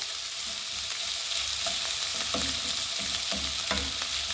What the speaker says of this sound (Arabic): كما راكم تشوفوا ندبلوا هذه كاع البصله